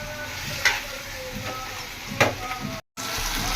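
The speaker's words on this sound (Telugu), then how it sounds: "బాగా ఫ్రై చేసుకోవాలా." Spicy village-style chicken sizzling in plenty of oil with gravy, a steady close frying hiss broken by occasional stirring scrapes and a brief dropout, with a voice talking faintly over it.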